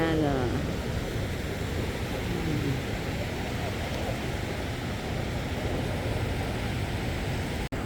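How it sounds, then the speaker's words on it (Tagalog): Ocean waves roll onto a beach during a family holiday in a steady, broad wash of surf. The rush is continuous and fairly close, with faint voices under it. "Dumarating yung mga alon, ang lalaki na nila."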